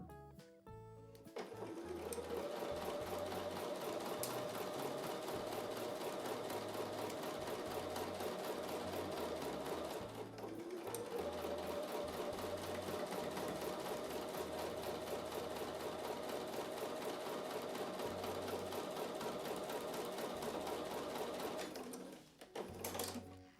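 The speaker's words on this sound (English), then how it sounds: "I'm going to take those over to the sewing machine and sew with a 1/4 inch seam" A sewing machine stitches quilt block pieces with a quarter-inch seam, its fast even motor whir and needle rhythm running close and loud for long stretches, broken by one brief pause and stopping near the end.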